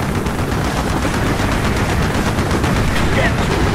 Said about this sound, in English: Taking two volley fire from the deck!